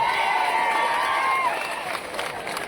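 A crowd of devotees at a religious gathering claps and cheers loudly in a continuous wash of applause, with a voice rising over it.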